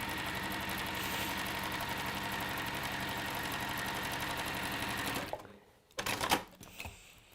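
Sewing machine stitching fabric pocket pieces right sides together, a steady close mechanical chatter running continuously for about five seconds, then stopping and giving way to a few brief clicks and handling noises.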